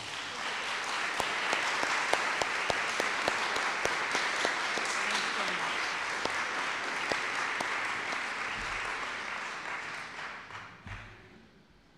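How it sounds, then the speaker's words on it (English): Lecture audience applauding a speaker, sustained even clapping from a sizable crowd lasting several seconds before tapering off near the end. "let us thank Cheryl with another round of applause."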